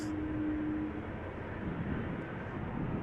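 A jet engine spools up at Amsterdam Schiphol Airport, heard as a steady, broad roar that holds level throughout, with a faint tonal hum early on.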